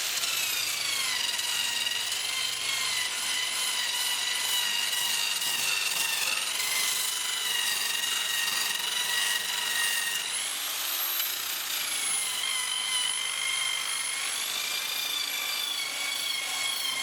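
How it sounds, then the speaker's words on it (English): An orbital sander with 320-grit paper works over a homemade wooden lamp outdoors, giving a steady, loud whining buzz that holds throughout with slight pitch shifts, no talking. "Then continue with the orbital sander with 320 grain."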